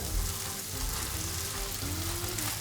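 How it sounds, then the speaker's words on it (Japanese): Chopped Chinese cabbage stir-fried in a pan with ground meat and oil, a steady loud sizzle and crackle throughout with faint stirring underneath. "白菜を全体的に炒めていきます。"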